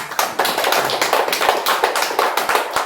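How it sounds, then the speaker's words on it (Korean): Church congregation clapping in welcome for the elders, a dense run of hand claps with a few sharp louder slaps standing out, close and steady, no talking over it. "박수 한번."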